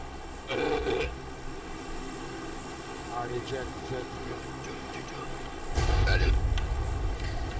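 A steady propeller-like engine drone fills the cabin of a transport plane in the battle royale game PUBG, with a louder low rumble building near the end.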